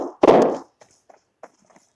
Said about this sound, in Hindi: M762 की आवाज़ मुझे पूरी का पूरी यहाँ तक सुनाई दे रही है, काफ़ी लाउड गन है ये